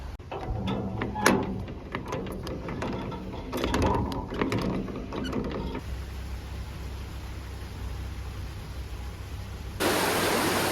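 A canal lock ground paddle gear on the River Avon is wound by hand, giving a run of metallic ratchet clicks and clanks before giving way to a steady rushing of water, ending in louder broadband noise.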